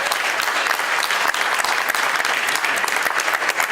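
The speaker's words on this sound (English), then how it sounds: "Please, let's have a round of applause for Tony Shawcross and Chris Keeling" A luncheon crowd at an awards event gives sustained, loud applause, a thick continuous patter of many hands clapping close by with no speech.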